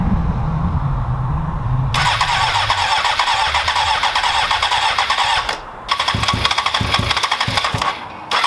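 A track motorcycle engine is kicked into life after a low rumbling start, then settles into a loud, rough, buzzing idle with a couple of brief dips and blips close by.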